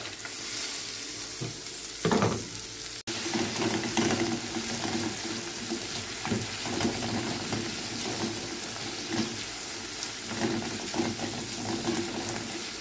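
Onion and garlic fry in oil in a pan, giving a steady sizzle with frequent stirring scrapes and a brief louder clatter early on, no talking.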